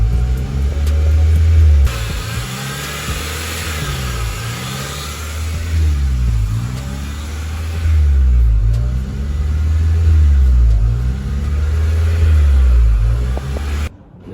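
An Opel Corsa engine surges on its own, revving up and down between about 1,000 and 2,000 RPM in a steady repeating cycle, loud and close.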